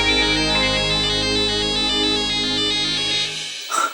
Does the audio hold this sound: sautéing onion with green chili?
no